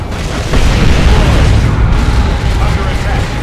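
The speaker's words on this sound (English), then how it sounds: "Deploy Melta bomb." A melta bomb detonates in the Warhammer 40,000 strategy game Dawn of War II: Retribution, a loud sustained booming blast with heavy low rumble lasting several seconds amid battle noise.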